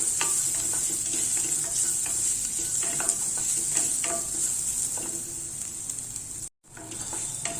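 Onion sautés in a pan for masala sundal, a steady close sizzle broken by light ticks of stirring, with a brief dropout near the end.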